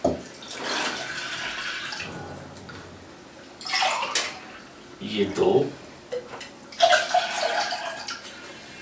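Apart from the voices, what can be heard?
cold water poured into a pot by the glass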